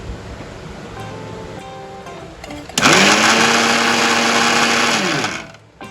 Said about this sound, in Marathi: याचा भुगा करून घ्यायचा म्हणजे मिक्सरमध्ये मिक्सरला लावायचे त्याला वाटून घ्यायचं